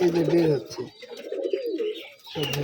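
A Rajshahi Giribaj pigeon at a loft gives low, throaty coos close by in a couple of rolling phrases, over a man's speech.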